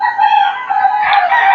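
Chickens on a rural farm, with a rooster crowing loudly nearby in a drawn-out call, backed by softer clucking.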